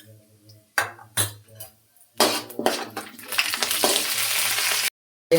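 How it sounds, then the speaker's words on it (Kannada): Mustard seeds, cumin, urad dal and chana dal hitting hot oil for upma, giving bursts of clinking and spoon strikes followed by a loud, sustained close sizzle that cuts off abruptly near the end. "ಎಣ್ಣೆ ಕಾದಿದೆ ಸಾಸಿವೆ ಸೂರ್ ಜೀರಿಗೆ ಉದ್ದಿನ ಬೇಳೆ ಒಂದು ಸ್ಪೂನು ಕಡಲೆಬೇಳೆ ಒಂದು ಸ್ಪೂನು"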